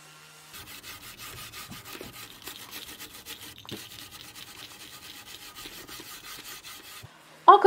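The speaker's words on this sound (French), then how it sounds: "Encore du ponçage et de la brosse bronze." Rapid back-and-forth rasping of sanding and a bronze wire brush scrubbing flaking paint off a surface, close and continuous for several seconds before stopping, with a brief sharp sound at the end.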